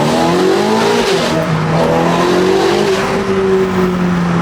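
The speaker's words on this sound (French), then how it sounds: "de base, une pista, ça fait un joli bruit" Ferrari 488 Pista with a Novitec exhaust revs hard and loud, the engine note rising and falling in sustained, close-up sweeps with no pause.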